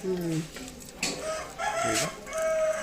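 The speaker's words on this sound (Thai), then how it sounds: "นี่ไก่โมโหอันนี้ไก่อารมณ์ดี" Chickens cluck and squawk in repeated agitated bursts, close and fairly loud, with a rooster-like crow in the mix.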